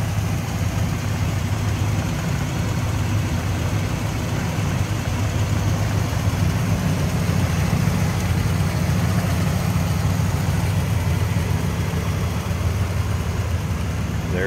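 A 1981 Chevrolet Camaro Z28 with a 5.7-liter 350 V8 idles smoothly, a deep steady rumble holding even throughout with no talk over it.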